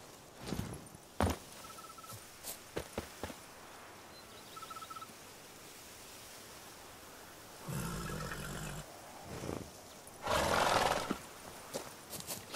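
Horse neighing and galloping in The Witcher 3: a few sharp hoofbeat-like thuds early, then two louder sustained bursts of whinnying and snorting near the end, over a quiet outdoor ambience.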